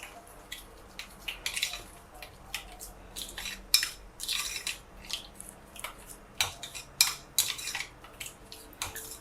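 A spoon stirs a creamy coleslaw dressing of mayonnaise, white pepper, powdered sugar and milk in a bowl, making quiet scraping and clinking taps in an irregular rhythm, close and soft, with no voices.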